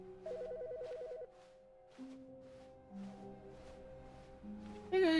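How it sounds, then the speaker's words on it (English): A telephone rings in The Stanley Parable: Ultra Deluxe video game, repeating electronic ring bursts in a steady pattern, clear and close, with soft tonal game music underneath and a brighter sound at the very end. "The phone is ringing."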